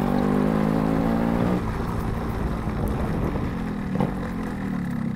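Yamaha RX two-stroke motorcycle running with an open exhaust, a loud close buzzing engine note with steady harmonics that drops slightly and keeps droning, with some wind noise.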